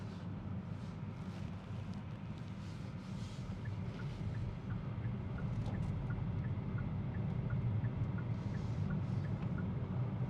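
Inside a 2023 Hyundai Ioniq 6 Premium electric car on the move, a steady low road rumble fills the cabin at moderate, even loudness, with no talking.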